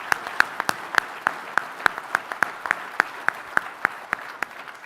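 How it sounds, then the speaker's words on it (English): Applause from an audience honoring a panel and moderator at an outlook event, heard as sparse, evenly spaced individual claps, fairly light and near, with no talk. "maybe I could ask for one more round of applause for our terrific panel and moderator."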